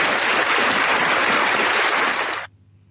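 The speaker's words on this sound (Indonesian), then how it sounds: "Tepuk tangan, Bang." A dense wash of audience applause, many hands clapping loudly and steadily for about two and a half seconds before cutting off abruptly into near silence.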